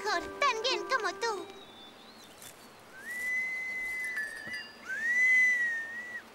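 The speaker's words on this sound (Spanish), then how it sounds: "Pichi, tengo que silbar mejor, tan bien como tú." Short rising and falling whistled notes, first a quick melodic run, then two longer sustained whistles, fairly clear against a quiet background.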